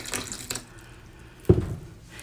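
Water is added to a calcium carbonate and cornstarch mix in short splashy pours: two quick bursts, then a louder splash after a pause, close and quiet with no voices.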